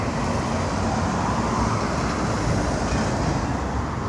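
Steady rumble of trucks rolling past on a dusty road, a broad continuous roar of heavy engines and tyres that stays loud and close throughout with no voices.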